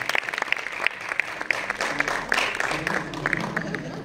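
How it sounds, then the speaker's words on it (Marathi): Loud, steady applause from an audience at a Marathi movie trailer launch event, with dense clapping that swells and holds throughout, plus faint crowd murmur beneath. "जोरदार टाळ्या"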